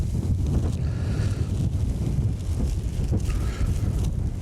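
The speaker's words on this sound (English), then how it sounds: "The wind went more to the southwest now." Wind gusts steadily across open farm country at a coyote and fox trapline beside a rock pile, a continuous low rushing roar with buffeting against the microphone and no speech.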